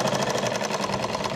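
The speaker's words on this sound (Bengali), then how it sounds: "পেছন দিকে করে আমি একটা একদম ধারে চাপ সেলাই দিয়ে দিচ্ছি" Sewing machine running a tight stitch right along the edge of salwar fabric, giving a steady, fast, rhythmic whirring with an even pulse throughout and no talking.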